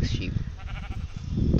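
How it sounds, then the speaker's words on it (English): A sheep bleats in wavering, nasal cries, close and fairly loud, with a lower bleat returning toward the end. "Give me a second and I'll get rid of this sheep. This really annoying sheep."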